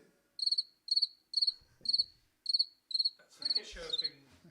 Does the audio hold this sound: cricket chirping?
yes